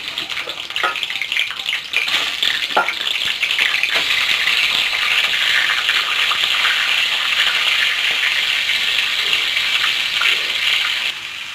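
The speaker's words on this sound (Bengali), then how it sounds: "এখন কড়াইতে তেল দিয়ে মাছের মাথাগুলো হলুদ লবণ দিয়ে ভেজে নেব" Rohu fish heads frying in hot oil with turmeric and salt in a kadai, a loud, steady crackling sizzle that runs throughout, with occasional pops and stirring knocks near the start.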